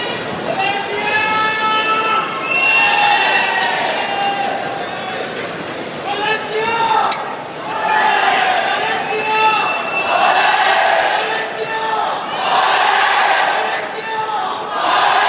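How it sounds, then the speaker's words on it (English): A packed badminton arena crowd at a sellout elite match roars and chants in continuous, swelling waves of loud massed voices that fill the whole stretch. "the crowd really are warming up for this"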